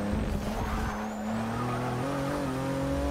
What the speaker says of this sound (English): the Altec GTR now sounds like it has helical gears